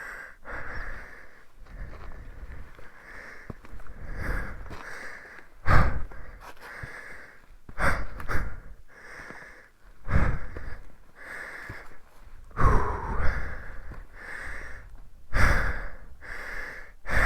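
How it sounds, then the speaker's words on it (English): Heavy, labored breathing follows a hard backcountry enduro trail ride: close, loud panting in steady rhythmic gasps and exhales, some with a snorting edge, continuing alone with no talking. "I'm breathing real heavy on this one."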